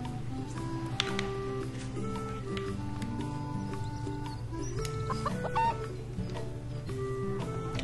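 Chicken clucking in the video game Harvest Moon: The Winds of Anthos, a run of short clucks and squawks over steady looping farm music, with no talk.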